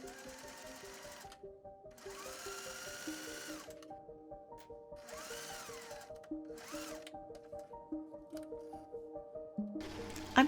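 A serger runs in repeated bursts while finishing the seams of a button-up shirt, its fast mechanical whir stopping and restarting several times, close and clear with no voices.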